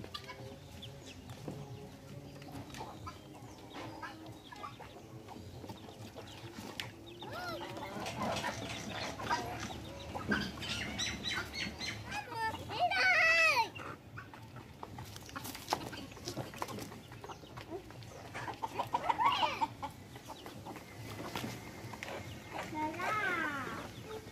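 Backyard farm chickens clucking while they dust bathe in the soil, a steady run of close, chattering clucks with a few louder squawks, with people talking throughout.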